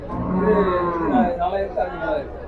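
A cow lows with long, drawn-out moos at the Melapalayam cattle market in Tirunelveli district, close and loud, while people talk and chatter around it.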